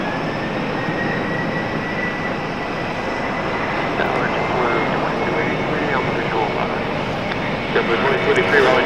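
Delta jet airliner taking off from runway 5 left at Raleigh-Durham airport, a loud continuous engine roar that builds slightly toward the end, with radio tower chatter heard over it.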